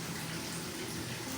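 About a glass of water is poured into a cooking pot of potato tehri, giving a steady, close gushing splash that fills the short moment without pause.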